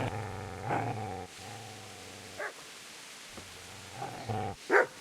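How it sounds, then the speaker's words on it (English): A dog in the video game Kingdom Come: Deliverance growls low and steadily, then gives a few short sharp barks and yips. It is fairly close, with some low background sound underneath. "Get away, you mutt!"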